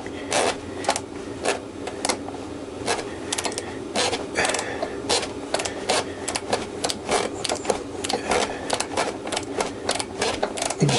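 A socket on a ratchet clicks rapidly and steadily as it turns a spinning rivnut on a Triumph Tiger motorcycle fuel tank, a close continuous mechanical ratcheting with faint voice in the background.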